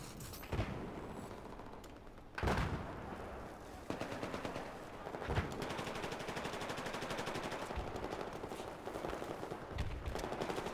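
Gunfire in Battlefield 4: rapid automatic bursts rattle almost continuously, with a few heavier sharp shots standing out, loud and close, and no talking.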